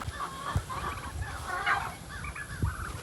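Turkeys gobbling at a small farm property with a chicken coop, repeated rippling gobbles at moderate distance over outdoor background noise.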